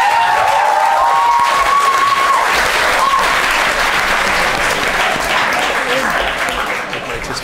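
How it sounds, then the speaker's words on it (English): An audience at a student union election question time applauds for the candidates, loud dense clapping with some cheering and voices, tapering slightly at the end. "so we can have a round of applause"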